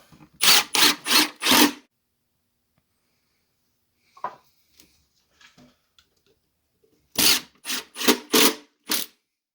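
Power drill driving number 8 by 1.5 inch screws into a wooden trap cubby, two quick bursts of four short whirring pulses each, separated by quiet handling noises.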